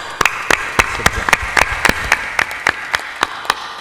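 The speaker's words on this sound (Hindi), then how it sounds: "इसलिए दमदार ताली बजाना चाहिए" Rhythmic, forceful group clapping at a Hindu religious discourse in Kharwa Kala, Ratlam, Madhya Pradesh, with sharp claps landing in a steady beat of roughly three per second, loud and close.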